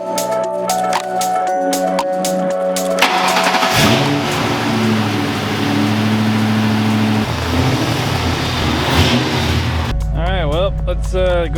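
Ford Crown Victoria drift car with a misfiring engine running loudly and steadily, a rough uneven note under occasional talk before it shifts pitch and rises near the end.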